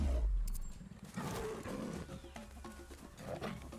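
A tiger roars in the game Ancestors: The Humankind Odyssey, a deep, loud growling roar up close at the start, followed by rumbling snarls and scattered game sounds.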